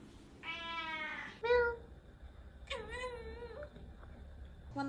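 A cat lets out a few close meows, one long and drawn out and others shorter and wavering, fairly quiet against a soft background.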